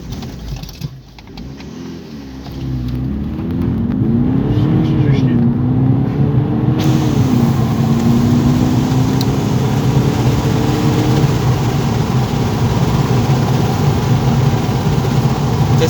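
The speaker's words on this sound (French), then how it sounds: "Départ arrêté avec une boîte auto" Volkswagen Golf GTD with an automatic gearbox pulls away from a standstill, its engine revving up in rising, sweeping pitches and settling into a loud, steady drone heard from inside the car.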